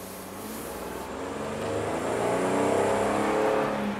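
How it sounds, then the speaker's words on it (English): The 3.8 engine of a 2002 Ford Windstar LX revs up after its fuel pump was replaced. The sound rises smoothly and steadily over a few seconds to a loud, sustained high rev, heard close up with no stumbling and no talking. "wind it right out, this thing should not stumble at all or fall on its face or anything"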